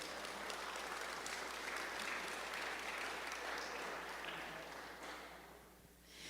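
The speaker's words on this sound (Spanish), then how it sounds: "Un aplauso para Dios." A church congregation breaks into steady, energetic applause during a sermon, dense clapping holding for several seconds before tapering off near the end.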